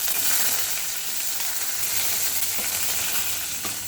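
Onion frying in hot oil with mustard seeds, cumin and ajwain, a loud, steady, close sizzle of crackling oil running throughout with a couple of faint clicks and no voices.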